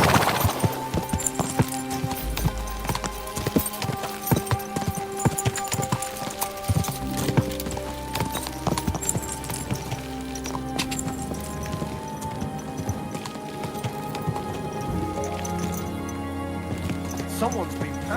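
Horse hooves clip-clop steadily in the medieval video game Kingdom Come: Deliverance 2, a loud continuous trot running under game music and speech throughout.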